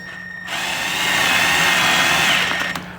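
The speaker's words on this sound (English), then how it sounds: "Once that drill stops" A power drill on slow mode spins up setting a rivet nut on a Harley-Davidson, running steadily with a high whine for a couple of seconds, then winds down abruptly, close and loud.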